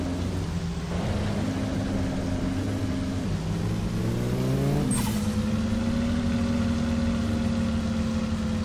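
A Gol AP 1.6 turbo in My Summer Car idles, then revs up in rising steps and settles into a steady, higher drone, loud and close with no talking.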